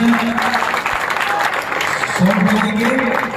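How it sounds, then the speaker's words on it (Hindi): Loud applause from a gathered crowd at an Independence Day flag hoisting ceremony, a steady dense wash of clapping under a speaker's voice through the whole stretch. "एक जोरदार तालियों के साथ हम जोड़ते"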